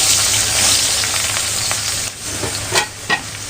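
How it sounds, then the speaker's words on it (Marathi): Finely chopped onion hitting very hot oil in a pan, a loud sustained sizzle that eases slightly, followed by a few stirring scrapes near the end, no talking. "आता मी बारीक चिरलेला कांदा टाकून घेणार आहे."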